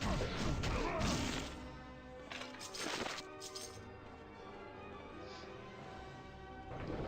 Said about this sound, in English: this ability is so juicy for just like smashing up all the terrain